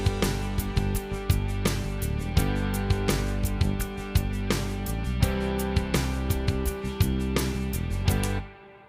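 Full guitar mix playing with EQ'd reverb on the guitar, steady strummed chords and regular percussive hits running loud and continuous, then cutting off abruptly near the end.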